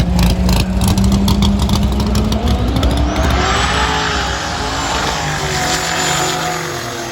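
A drag racing car makes a pass down the track, its loud engine roaring continuously with a rising whine as it accelerates, close and unbroken throughout with no talk.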